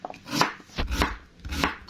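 Fresh beetroot being chopped with a knife on a board, three distinct thudding cuts spaced about half a second apart, close and fairly loud with no talking.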